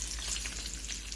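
Hot oil sizzling in a pan with panch phoron spices and garlic for an egg and vegetable dish, a steady close crackle and hiss with no talking.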